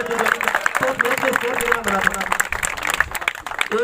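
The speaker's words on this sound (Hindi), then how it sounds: "जोरदार ताली से अभिनंदन कीजिए, स्वागत कीजिए।" A crowd claps steadily for a cricket player at a prize ceremony after a village cricket tournament final, sharp overlapping handclaps running throughout under a loud announcer's voice.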